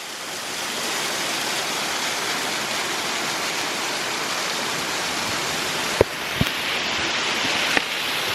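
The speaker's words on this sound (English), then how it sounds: "there's all sorts of these smaller waterfalls that are really cool" Small waterfall along the Ozark Highlands Trail pours in a steady, dense rush close by, unbroken for the whole stretch, with a few light footstep knocks near the end.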